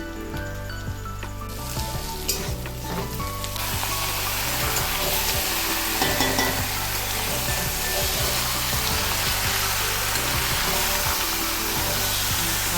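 Onions and marinated meat fry in a pan with a loud, continuous sizzle and hiss that stays steady and close throughout, with occasional light clinks and no talking.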